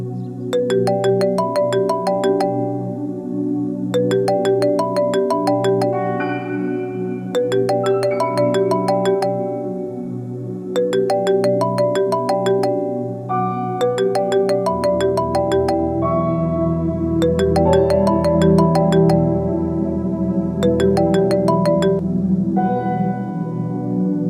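A phone ringtone plays during an outgoing call, a loud repeating melodic electronic ring sounding in regular bursts with short pauses between them and no voices over it.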